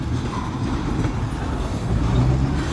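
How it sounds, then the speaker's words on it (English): A train rolls steadily through Havana, a loud continuous rumble of wheels and rail noise with low droning tones, close and unbroken, with no talk. "Train through Havana."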